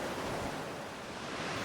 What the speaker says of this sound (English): The river suddenly drops 21 metres over the Wind Sill into a plunge pool below.